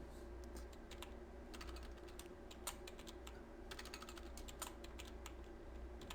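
An administrator password is typed on a computer keyboard as a steady run of quiet, close key clicks with a few firmer taps, set against a low constant background hum.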